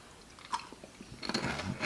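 Crunchy chewing on a hard Korean shrimp snack, close to the mic, with a few brief bites early and then denser crunching toward the end.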